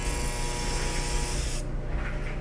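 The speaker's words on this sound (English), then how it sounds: "you just give a good spray in your pan." A Misto oil sprayer mists olive oil into a pan, one steady hissing spray lasting about a second and a half before stopping, close and fairly loud with no talk.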